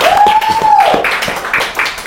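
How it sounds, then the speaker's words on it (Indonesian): A few people in a small podcast studio clap up close, a short burst of distinct, uneven handclaps at moderate volume with a voice briefly heard over them. "Tepuk tangan dulu dong"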